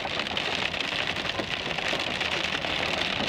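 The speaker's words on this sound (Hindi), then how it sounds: "लाहौर समेत शेखुपुरा, कसूर और ओकाड़ा में तूफानी बारिश और यालाबारी ने सर्दी की शिद्दत में इजाफा कर दिया।" A storm of heavy rain and hail falls in Lahore as a dense, steady roar of drops beating on surfaces, loud and even throughout, with no voices.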